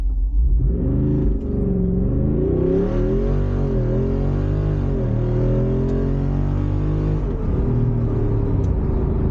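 A Jeep Wrangler Rubicon 392 launches hard from a standstill toward 60 mph, its big engine roaring loud and close as the revs climb, then dip and climb again through gear changes, with no talking.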